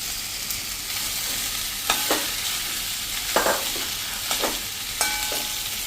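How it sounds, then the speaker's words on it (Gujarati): Small potato pieces and peas fry in hot oil with masala for samosa filling, a steady sizzle broken by several distinct scraping stirs of a spoon against the pan, close and clear with no voices. "હવે આપણે જે આ બટેટાના પીસ કર્યા નાના નાના એને નાખી દેશું"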